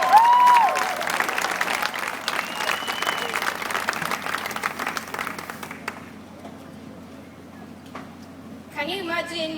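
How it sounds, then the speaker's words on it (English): Audience applause fills a large Christian music festival crowd as a performer is welcomed onstage, broad steady clapping with cheers and whoops, fading after about six seconds to quieter scattered claps before a brief voice and more cheering. "give her a round of applause"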